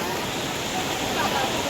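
A typhoon-flooded river at 1K1 Kasiglahan, Montalban, Rizal, rushing hard over its banks, makes a dense, steady roar that holds evenly throughout.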